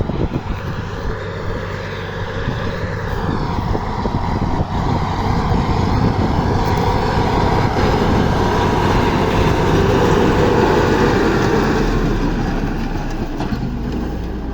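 A tractor pulling a disc harrow: a loud, steady heavy engine drone with clanking and rumbling machinery running continuously, close by and unbroken throughout.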